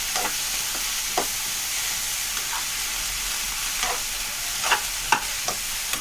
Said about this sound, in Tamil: அந்த எண்ணெயிலே நல்லா ஃப்ரை ஆகணும் வெண்டைக்காய்